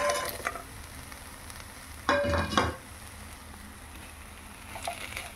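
Lentil dumplings (bori) drop into a simmering curry with dal and vegetables, making a short burst of clatter and splashing sizzle amid a steady low bubbling hiss.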